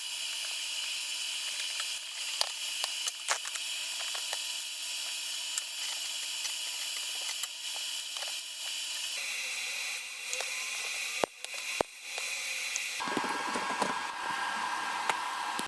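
Welding an adapter piece onto a dolly wheel, a steady close buzzing hum that holds for several seconds and shifts pitch twice, with occasional sharp clicks and pops.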